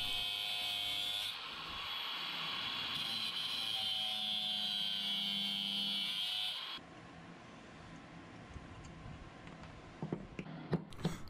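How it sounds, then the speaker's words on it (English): A power tool cuts notches into metal grill burner tubing, a steady loud whine with bright ringing overtones that shifts pitch, then stops, leaving quieter scattered clicks and taps. "Next, I'm going to cut half the tubing out and make a notch."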